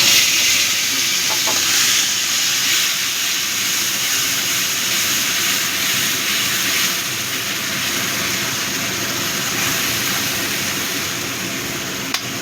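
Onion and garlic paste added to a hot pan with chillies and tomato for a prawn and pointed gourd dish, a loud, dense, continuous sizzle that holds steady and eases slightly partway through.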